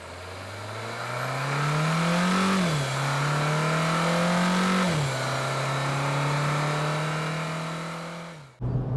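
A Renault Clio RS engine drones loudly from inside the car while driving, its pitch climbing through the revs, dropping at gear changes and climbing again, then cutting off abruptly near the end.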